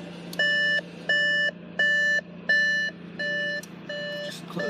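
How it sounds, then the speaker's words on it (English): An Audi A6 S line chimes its door-open warning: six evenly spaced electronic beeps, each about half a second long, close and clear, sounding alone over a quiet hum. "Just close the door. Get rid of that annoying noise."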